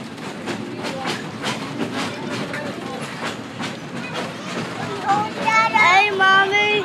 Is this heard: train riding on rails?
yes